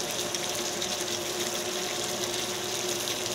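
A little fish sauce (patis) poured into a dish of sweet and sour butter garlic shrimp: a soft, steady liquid trickle, faint and close, alone.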